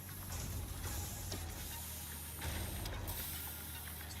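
In the factory game Satisfactory, a constructor machine turns rods into screws, giving off a dense mechanical whir and hiss with rhythmic clanking bursts, loud and continuous.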